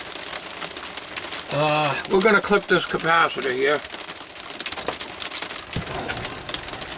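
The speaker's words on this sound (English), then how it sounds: "It's raining like hell out there." Heavy rain pours steadily outside a workshop where a Hallicrafters S-210 radio is being restored, a dense, constant hiss running under a man's nearby speech throughout.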